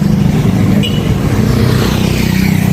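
A motor tricycle idles close by, its engine putting out a loud, steady low throb with a rapid, even pulse and a brief high tick partway through.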